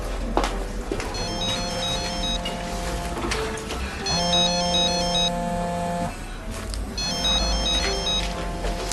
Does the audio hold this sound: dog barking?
no